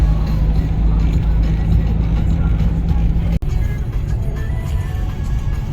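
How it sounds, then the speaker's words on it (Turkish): A straw-laden truck drives along the Aksaray–Konya road, a loud, continuous low engine rumble and road roar that holds steady throughout, broken only by one brief dropout. "Kamyonu görüyorsunuz. Saman yüklü."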